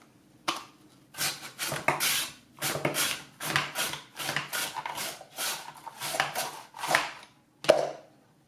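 Cucumber being julienned on a Swissmar Borner V-slicer mandoline with its holder, producing a steady rhythm of loud rasping strokes, about a dozen back-and-forth slides with brief gaps between them.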